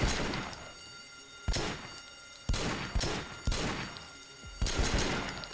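Gunfire in Sleeping Dogs, during a hospital massacre, with about six loud separate shots or short bursts spaced roughly a second apart, each followed by a ringing decay, with no talk.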